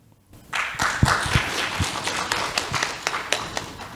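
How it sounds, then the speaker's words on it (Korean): Applause from the audience at an agricultural product safety symposium, a steady patter of clapping with a few sharper claps standing out, starting after a short pause and continuing throughout. "화면으로나마 큰 박수 부탁드립니다"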